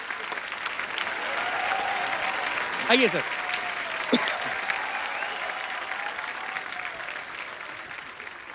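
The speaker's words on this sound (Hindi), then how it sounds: "एक बार जोरदार तालियां बच्चा के लिए" A studio audience on a comedy talk show bursts into loud, steady applause that fills the clip, with someone briefly speaking over the clapping midway.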